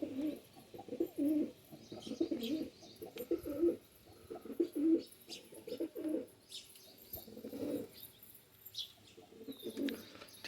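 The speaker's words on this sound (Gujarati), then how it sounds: "કેટલા સરસ લાગે તો બધા ઉડાનના કબૂતર છે આપણા." Domestic flying pigeons kept in a loft coo steadily in repeated low, throaty bursts close by, with occasional faint chirps and a brief wing flutter in the background; no speech.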